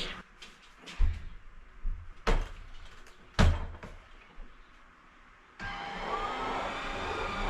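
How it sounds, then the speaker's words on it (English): A vacuum mop is used on a living room rug: a few close knocks and thumps come first, then the motor switches on and runs with a steady whirring roar for the last couple of seconds. "now I can just use my vac mop on my rug and the rest of the living room"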